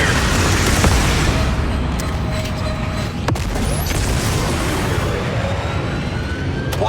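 Sustained gunfire and booming blasts from a video game battle, loud and continuous throughout with a couple of sharp cracks, under a steady rumbling wash of combat noise.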